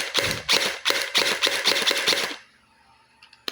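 A kids' gel ball blaster toy fires a rapid string of about eight sharp single shots, loud and close, followed by a quiet pause and one faint click.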